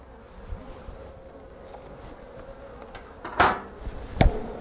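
Honeybees swarm around an opened split hive during an inspection, filling the air with a steady close hum, broken near the end by a couple of sharp wooden knocks from the hive parts; nobody speaks.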